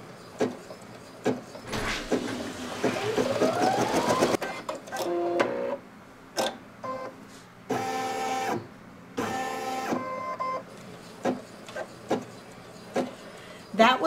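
Brother NQ3700D embroidery machine stitching a face and hands placement, with a rapid mechanical whirring burst, then intermittent clicks and short buzzing stitch runs as thread cuts happen, close and clear.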